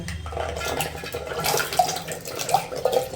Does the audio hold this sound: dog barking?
no